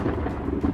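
Thunder rumbles low and heavy during a storm, a brief continuous roll with rain-like hiss on top and no voices.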